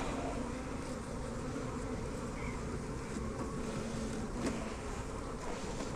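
Honeybees hum in a dense, continuous drone around an open hive during a farm inspection on an overcast day, close and steady throughout with no talk.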